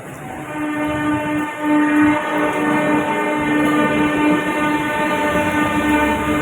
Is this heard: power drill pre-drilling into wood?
no